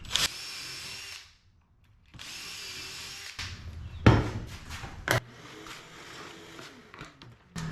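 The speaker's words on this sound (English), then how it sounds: "Then I got a 5/64 bit here to pre-drill pilot hole for the hinge screws" A power drill whirs in several short bursts with a 5/64 bit pre-drilling pilot holes in wood for cabinet hinge screws, starting and stopping with pauses between, followed by some handling knocks and scraping nearby.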